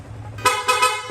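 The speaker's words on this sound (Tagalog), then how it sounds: "Ito naman po yung stock horn, loud horn" Stock loud horn on a Yamaha Sniper 155 motorcycle gives a few short, loud honks in quick succession, close up, after a brief low hum.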